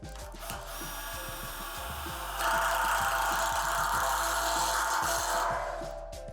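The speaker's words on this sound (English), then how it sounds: "insert the self-tapping screws. They are designed to go through the metal in the underlying pole" A self-tapping screw is driven into the metal pole of an in-ground basketball system with a power driver, giving a continuous whirring grind that grows louder midway, with faint ticks beneath and no speech.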